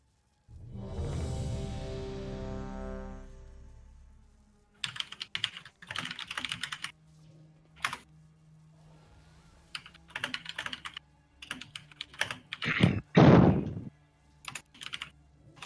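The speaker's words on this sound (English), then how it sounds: "It's a nice clicky keyboard. Yeah, that's why I mute myself quite a lot if I have to do more typing." Typing on a clicky computer keyboard in bursts of fast, sharp, close keystrokes with short pauses between them, following a loud sustained game sound at the start.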